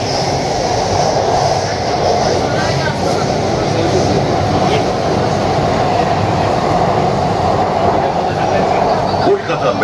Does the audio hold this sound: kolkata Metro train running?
yes